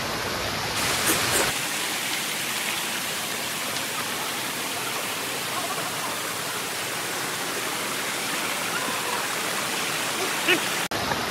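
River water pours down over rocks at night, a dense, continuous rushing wash, loud and close, that fills the whole stretch with no pauses.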